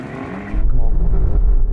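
Engine of a high-performance car in a drag race between a BMW M4, Audi RS5 and Alfa Giulia Quadrifoglio, heard from inside as a loud, deep roar that surges sharply under acceleration.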